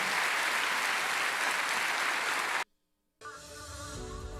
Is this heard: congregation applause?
yes